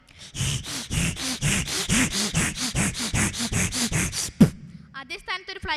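Voice mimicry at a Kerala school arts festival imitates a hacksaw blade cutting a PVC pipe, a steady run of about fifteen rhythmic rasping strokes, close and fairly loud, followed by a brief breathy trail.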